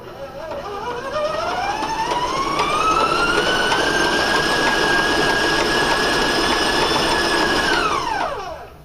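A stand mixer with a paddle beats sugar cookie dough at raised speed. Its motor whine climbs steadily, holds loud and even for several seconds, then winds down sharply at the end, with no talking.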